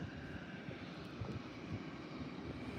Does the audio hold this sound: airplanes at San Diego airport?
yes